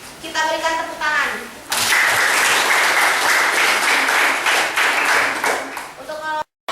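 Classroom applause from students at a junior high school lesson, a dense burst of clapping filling most of the stretch after a short spoken lead-in, with voices at the start and end.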